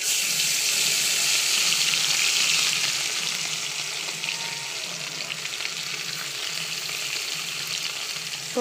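Khoira fish pieces, rubbed with salt and turmeric, frying in hot oil in a kadai, a steady close sizzle with a brief watery hiss that settles into an even crackle.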